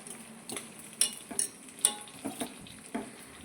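Homemade hair oil of herbs and oil boiling on a low flame, a soft bubbling sizzle with light metallic stirring clinks against the pan at irregular intervals, close and fairly quiet, with no talking.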